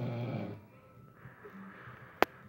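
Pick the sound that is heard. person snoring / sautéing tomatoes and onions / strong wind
person snoring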